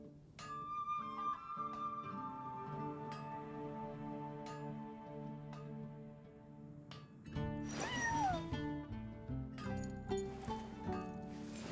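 A cat meows and caterwauls in Genshin Impact, a drawn-out, wavering cry near the middle that rises over soft tonal game music, with a few further shorter mews afterward.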